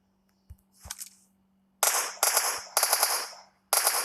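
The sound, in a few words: automatic gunfire in PUBG-style video game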